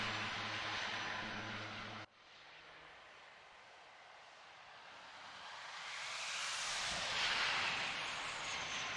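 Heard at Watkins Glen, a Volkswagen I.D.R electric race car sweeps past with an airplane-like whoosh of wind and hiss that swells and then fades, after a loud steady tone cuts off abruptly.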